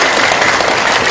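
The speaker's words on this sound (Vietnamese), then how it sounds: "Cho một tràng pháo tay thật lớn." Loud, dense applause from a large audience at a Buddhist Dharma talk, a brief continuous wash of clapping with no voices over it.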